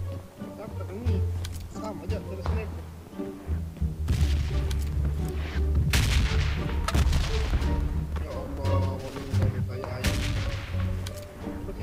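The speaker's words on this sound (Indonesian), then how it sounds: "Dia tembak budak yang dekat tu" Rapid gunfire in a shooting video game, loud repeated shots and bursts that thicken into heavy volleys midway, with players chatting over the action.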